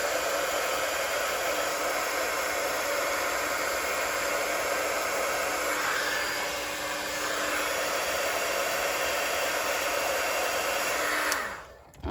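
A heat tool runs steadily for about eleven seconds at close range, embossing a stamped paper card with a broad, even blowing whoosh. It cuts off sharply at the end.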